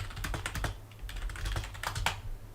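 Typing on a computer keyboard during a game-development session, a quick uneven run of close keystrokes in small bursts with short pauses, fairly quiet and with no talking.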